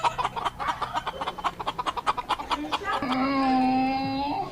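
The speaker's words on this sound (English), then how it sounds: "chicken," Chicken clucking in a rapid, rhythmic series of sharp clucks, close and clear, rising into a longer drawn-out squawking call at the end.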